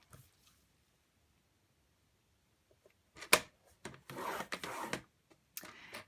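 Paper card being scored for a note card box, heard as a few short scraping and rubbing strokes after a quiet start, close and moderately loud in bursts with brief pauses between.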